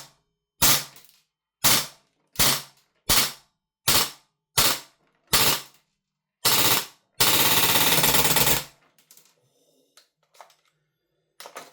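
A Lambda Defence GHM9 Gen2 gas blowback airsoft rifle fires a series of short, sharp bursts separated by pauses, then one longer full-auto string; the gas blowback rattle is loud and close, followed by quiet mechanical clicks.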